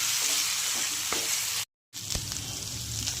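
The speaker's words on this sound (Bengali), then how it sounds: "এবার এটাকে ভালোভাবে আর একটু ফ্রাই করে নিই" Potatoes frying with chilli in a pan, alongside prawns, hiss steadily while a spatula scrapes and stirs nearby; the sizzle drops out for a moment mid-way, then resumes just as loud, with no voices.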